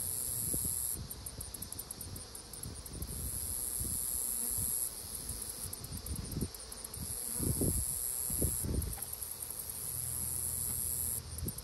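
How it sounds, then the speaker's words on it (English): Honey bees swarm around an open hive in a cow-pasture apiary, making a steady, close, droning buzz that lasts the whole stretch, with some soft knocks and handling noises from the hive work underneath. "There's a lot of them down in there. There's a lot of bees."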